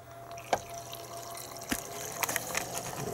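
Water flowing through a PC liquid cooling loop driven by a D5 pump, a faint trickle and bubbling over a low steady hum, with a few sharper drips and clicks.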